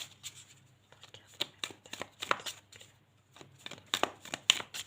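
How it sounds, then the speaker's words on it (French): Tarot cards being shuffled and drawn, a quick run of crisp, papery riffles and slaps close by, with bursts clustered at the start and end and a short lull in the middle. "On va encore tirer 3 cartes."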